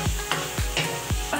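Vegetables being stir-fried in a pan for chicken and vegetable fried rice, a steady sizzle broken by four rhythmic scraping stirs of a spatula, close and loud with no talking.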